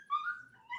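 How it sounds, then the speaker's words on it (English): A puppy somewhere nearby gives a thin, high whine that rises and falls, faint and brief against a quiet background. "there was a puppy making some noise over there"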